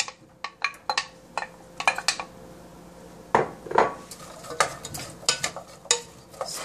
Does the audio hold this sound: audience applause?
no